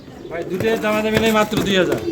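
A pair of Danish pigeons coo loudly at close range, several throaty rolling calls in a row, while a voice talks over them.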